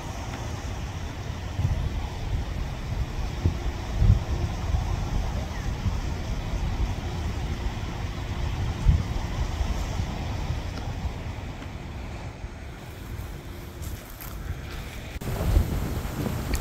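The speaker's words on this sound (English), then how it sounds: "The wind's picked up here in Las Vegas." Steady wind gusts buffet the microphone outdoors at a cemetery in Las Vegas, a low rumbling roar that swells and dips throughout with a few brief thumps.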